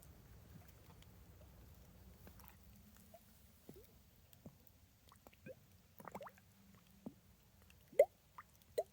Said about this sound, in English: if you look at that tree right there, that's in the water, it's hollow. So every time the water hits it, it makes a